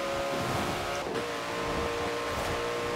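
A Koenigsegg Jesko hypercar in Forza Horizon 4 driving at very high speed, its engine a steady, unbroken drone with a bright whine throughout, no voices.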